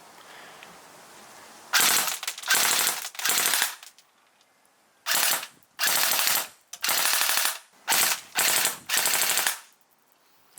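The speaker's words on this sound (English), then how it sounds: "let's see what some full auto can do" An electric airsoft gun powered by an 11.4 volt, 1100 milliamp battery fires full auto in several loud, sharp bursts of rapid buzzing shots, each about a second long, separated by near-silent pauses.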